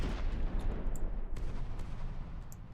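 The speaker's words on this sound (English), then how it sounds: "Darth Bathtub still hitting that Cram turret with the lasers" Laser weapons in a robot vehicle combat game keep pounding an enemy turret, a dense, steady barrage of crackling hits and rumbling impacts with scattered sharper snaps throughout.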